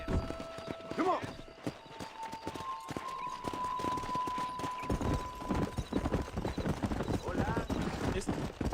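Hooves of a galloping horse thud in a rapid, steady rhythm across open ground in the Western game Red Dead Redemption, loud and close, with a brief whinny early on and voices talking over the ride.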